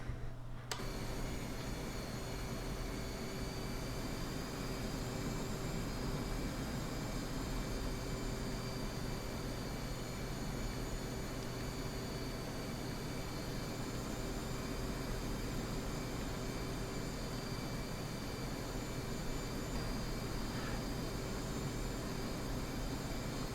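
An F/A-18C jet engine in the DCS World flight simulator, a steady continuous drone with a high whine holding level for the whole stretch, no talking.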